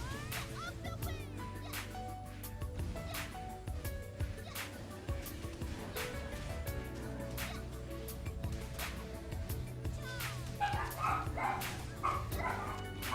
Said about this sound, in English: Are you guys hearing the dogs?